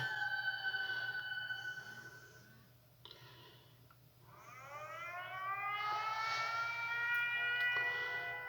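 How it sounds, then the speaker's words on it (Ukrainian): A distant air raid siren wails in long rising and falling tones in Ukraine, fading briefly before swelling again, heard alone against a low steady hum. "От у нас наразі повітряна тривога."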